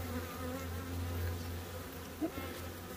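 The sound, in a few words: Africanized killer bees buzzing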